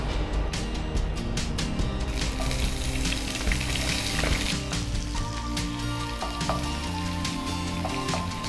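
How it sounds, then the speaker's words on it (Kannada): Chopped onion sizzles steadily in hot cholesterol-free cooking oil in a home kitchen, a loud, continuous close-up frying hiss with occasional stirring clatter and crackle throughout. "ಆಯಿಲ್ ಸ್ವಲ್ಪ ಬಿಸಿ ಆಗುವಾಗ ಆನಿಯನ್ ಹಾಕುವ."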